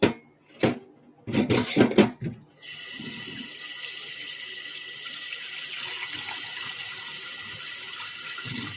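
A kitchen tap is turned on and runs in a steady stream for rinsing, after a few clattering handling knocks at the start. The rushing water carries on loud and unbroken, and a few faint clinks sit under it.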